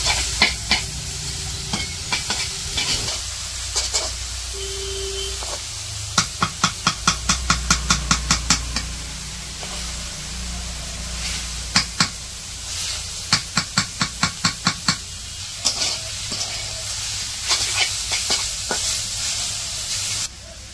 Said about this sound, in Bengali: বাগার দিয়ে দিছে, পেঁয়াজ কাঁচামরিচ ভাইজা শাকগুলা দিয়ে দিছে।